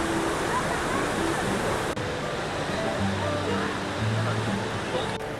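Athirappilly waterfall in Kerala, seen from the top viewpoint, gives a steady, dense roar of rushing water that fills the whole scene, with faint voices under it.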